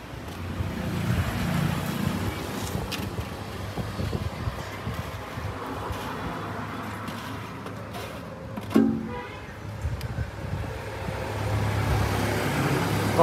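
A Japanese engine-powered pressure sprayer with an HB33 engine runs steadily, a continuous rough mechanical drone with wind-like noise throughout, holding a constant level apart from one brief knock near the end.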